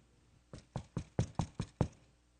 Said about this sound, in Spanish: un toque de puerta.